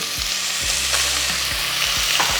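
Mutton fries in hot oil with garlic and onion, giving a dense, steady close sizzle with a few low knocks spaced through it, and no voices.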